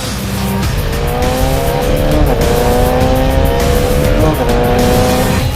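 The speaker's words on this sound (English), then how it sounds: "for a single cylinder, this bike also sounds pretty darn good" A loud, close Bajaj Dominar 400 single-cylinder 373cc liquid-cooled motorcycle engine revs repeatedly, pitch climbing steadily with each throttle pull before dropping back, a rough buzzing drone throughout.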